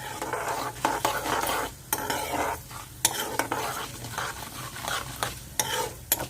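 Whole spices, mustard, coriander and cumin seeds, sizzle and crackle in hot oil in a pan, with steady stirring and scraping of a utensil against the pan, close and moderately loud, with no talking.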